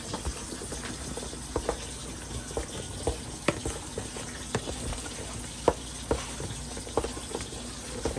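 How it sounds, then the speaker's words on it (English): Velveeta cheese being stirred into a cooking pot: soft, irregular clicks and wet patter from the spoon over a quiet, steady background. "Stir this in."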